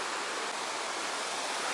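Steady broadband rush of clear spring water and a clean river flowing at a tourist complex, continuous and fairly loud throughout with no voices.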